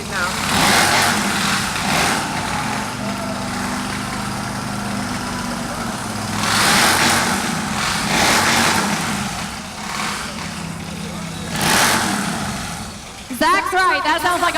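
Custom motorcycle engines run at a sponsor bike show, a steady loud rumble with swells of revving, under and alongside people talking nearby.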